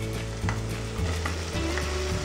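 Tomato goes into frying onion paste in a pan, raising a loud, steady, dense sizzle that fills the clip, with faint stirring scrapes underneath and no voices.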